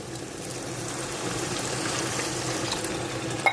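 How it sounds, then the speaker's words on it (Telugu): A glass of water goes into a pan of fried potatoes to make gravy, giving a steady close pouring and bubbling wash that holds for a few seconds, with a small clink at the very end. "ఒక గ్లాస్ వాటర్ వేసానండి"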